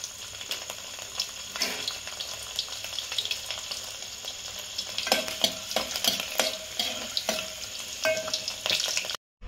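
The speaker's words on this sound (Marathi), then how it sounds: "तेल तापत चालू. लसूण टाकलं." Garlic sizzling in hot oil for a sweet mango pickle, a steady close frying hiss with bursts of stirring and scraping in the pan, growing busier toward the end before cutting off abruptly.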